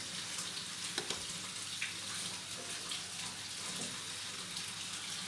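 Beetroot simmering with sugar in a cooking pan gives off a steady, soft sizzling hiss with faint bubbling throughout, with no voices over it.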